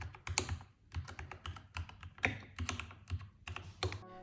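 Typing on a mechanical keyboard fitted with red switches, resting on a felt desk pad: a steady run of close, crisp keystrokes in an irregular rhythm, with a few heavier presses standing out.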